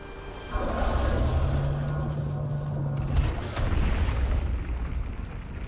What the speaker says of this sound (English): At least your cannon works.